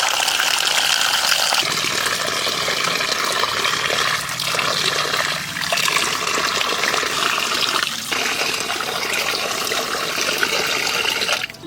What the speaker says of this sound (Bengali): কচুটা ভালো করে ধুয়ে নিই।